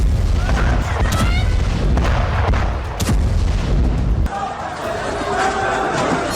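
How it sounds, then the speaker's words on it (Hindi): Heavy bombardment in Gaza near al-Shifa hospital, with loud, dense booms and rumbling blasts that follow close on one another over a continuous roar, a brief sharp crack partway through, and chattering voices in the background. "तभी जबरदस्त बमबारी की गई।"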